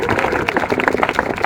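A brief burst of audience applause for speakers at a public hearing-style event, with many close, loud, dense claps and no clear talking.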